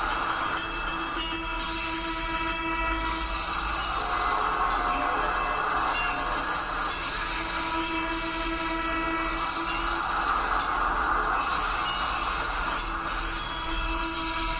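Steady rumble of a tram in the video game Cities in Motion rolling along rails, with metallic squealing and a continuous hum, no voices.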